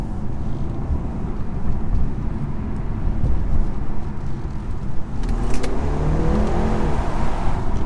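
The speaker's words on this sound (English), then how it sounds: "2-litre engine noises," BMW 330e hybrid with a 2-litre petrol engine, revving as it drives: a steady, loud engine drone with road and cabin rumble, rising in pitch with acceleration in the last few seconds.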